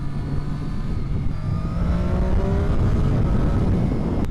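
A Triumph Daytona 675R sport motorcycle with a three-cylinder triple engine running loud and close, a steady strong engine roar whose harmonics slowly rise as the revs climb, with no talking.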